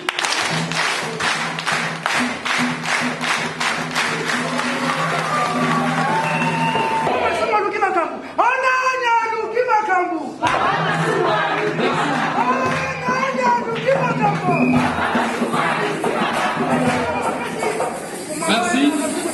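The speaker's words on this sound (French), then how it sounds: "Voilà, tu applaudis très fort." Audience applause and cheering at a ceremony, dense clapping and crowd noise with whoops, running under a loud voice addressing the crowd over a sound system.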